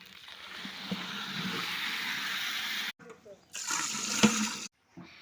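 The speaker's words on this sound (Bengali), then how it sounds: "এখন পানি দিয়ে দিব" Water goes into a pot of lentils and rice that have been fried with spices for khichuri, a soft continuous pouring hiss that breaks off, returns briefly, then stops, with a voice speaking at times.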